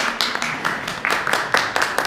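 Audience applause at an Italian caving association gathering, heard as a short burst of scattered, moderately close hand claps with irregular rhythm, fairly faint overall.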